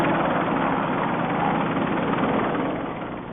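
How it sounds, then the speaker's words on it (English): Steady, dense rotor-and-engine drone of three helicopters with engines running at a Detroit fire rescue scene in 1987, holding at a constant loud level and easing off slightly near the end; no voices. "3 helicopters kept their engines turning,"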